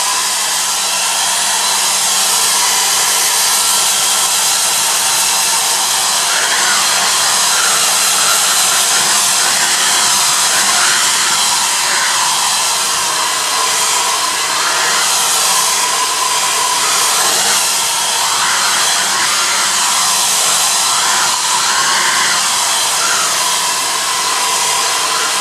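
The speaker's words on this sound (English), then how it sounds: "you can speed it along a bit with a hair dryer" Hair dryer blowing onto latex painted over a foam cosplay chest piece, a loud, constant whirring blast held unbroken for a long stretch, with slight wavering in tone and no speech.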